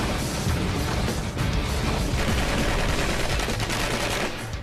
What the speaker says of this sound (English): After 8 direct hits, the granite is barely scratched.